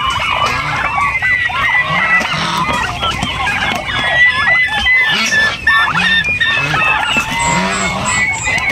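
Broad-breasted turkeys feeding, with a dense, continuous mix of clucks and chattering calls from a flock close by, steady and loud throughout.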